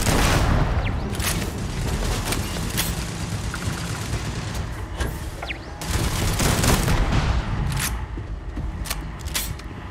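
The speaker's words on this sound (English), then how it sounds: "Dude, those turrets still shoot at you." Turrets firing in the video game Starfield: a dense, sustained fusillade of sharp shots and booms running through the whole stretch, loud and close, with no talking over it.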